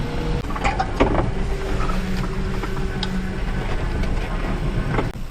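A mini truck engine idles steadily, a low continuous hum with faint mechanical rattles and ticks, heard up close with no talking.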